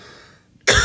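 A single sharp, loud cough bursts out at the end after near silence, close to the microphone during a sit-down chat.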